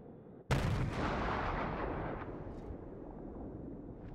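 A single heavy blast of anti-aircraft gunfire from a World of Warships warship bursts out suddenly, followed by a long rumbling decay that fades over several seconds.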